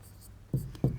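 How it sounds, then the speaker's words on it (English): Two short, sharp strokes of writing on a classroom board, close and distinct against near-silence. "So we can write here"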